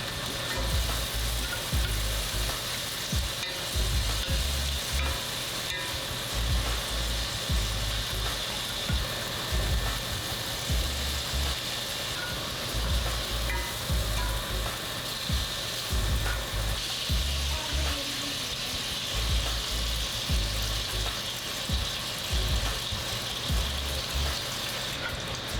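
Onions, minced garlic and banana peppers fry in a cast iron pan still holding browned bits from a seared chuck roast, giving a steady close sizzle with soft intermittent stirring scrapes throughout.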